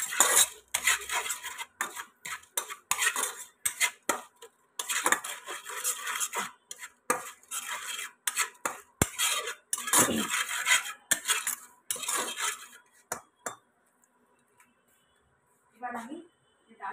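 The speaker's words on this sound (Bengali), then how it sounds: "সব কটা মশলা আমি ভালো করে কষিয়ে দেবো" Spices for a Bengali chana dal get stirred in a pan with a metal spoon: rapid clinks and scrapes come in bursts with brief pauses, and a person talks between and over them.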